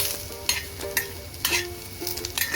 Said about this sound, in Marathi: आपल्याला खोबरं जाळायचं नाही अजिबात, छान खोबरं पण होत राहिलेलं आहे।